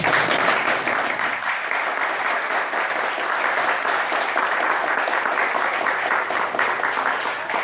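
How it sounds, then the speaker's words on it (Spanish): Audience at an evening lecture applauding, dense continuous clapping from many hands that stays loud and even throughout, with no talk over it. "Voy a pedir un muy especial aplauso por las damas que nos acompañan esta noche."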